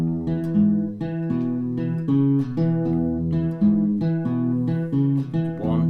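An electric guitar plays a bouncy Chicago blues shuffle rhythm with repeated chord figures, steady and close, no voices.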